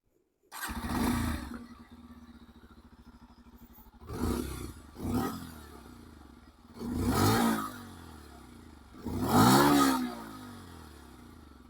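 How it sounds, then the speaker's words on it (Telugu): A 2024 Bajaj Pulsar 125 motorcycle engine starts and idles with a deep, throbbing exhaust, then revs up loudly in three separate bursts before settling back to idle. "ఒకసారి ఈ బైక్ ఎగ్జాస్ట్ నోట్ అనేది వినిపిస్తాను"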